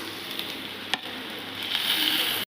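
Onions and tomatoes fry in a pan with a steady, close sizzle that hisses continuously, marked by one faint stir or clink partway through, with no talking.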